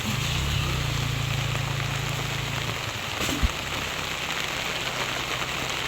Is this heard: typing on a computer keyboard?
no